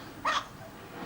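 A chihuahua trying out as a guard dog gives a single short, sharp yap, fairly close and alone against faint background hiss.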